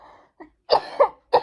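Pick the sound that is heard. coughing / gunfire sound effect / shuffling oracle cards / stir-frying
coughing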